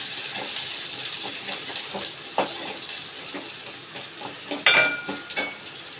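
Turmeric is stirred into hot frying oil for a cabbage and chana dal curry, giving a soft steady sizzle broken by several sharp scrapes and taps of a spoon against the pan.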